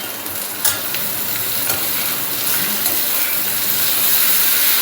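Potatoes and onions fry in oil in a pan with a steady, close sizzle, and a few faint stirring knocks sound over the hiss.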